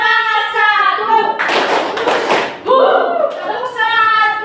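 A school class does a rhythmic spirit clap chant, with a burst of loud, close group clapping set between stretches of sung or chanted voices.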